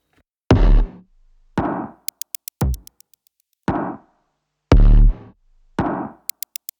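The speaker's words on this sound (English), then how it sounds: "The drums in the verse sound like this." A sparse drum groove from a song verse, with deep kick and snare hits spaced evenly, small ticking hi-hat taps between them, dry and close with no other instruments.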